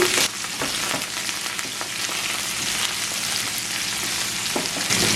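Fennel seeds, shallots and curry leaves sauté in hot oil, giving a close, steady, loud sizzle. Occasional light stirring clicks sound through the hiss, with no voices.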